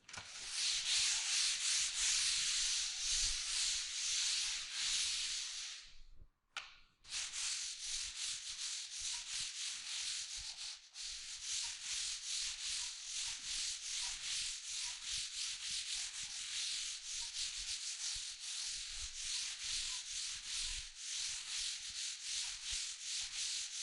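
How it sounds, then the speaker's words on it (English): Light hand sanding of a painted interior wall, a steady scratchy rubbing that runs continuously and close, with a brief pause near the start and no talking. "I'm just going to give this wall a light sand"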